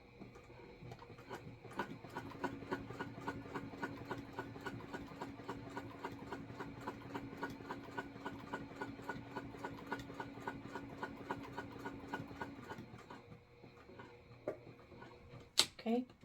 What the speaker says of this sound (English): We're just going to sew this at 1/8 of an inch.